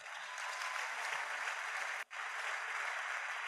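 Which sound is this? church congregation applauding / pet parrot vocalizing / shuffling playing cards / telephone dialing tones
church congregation applauding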